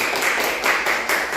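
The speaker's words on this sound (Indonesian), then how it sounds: "beri tepuk tangan untuk kelompok 1" A classroom of primary school pupils clapping for a group of classmates, a dense, steady patter of many hands filling the room at close range with no voices over it.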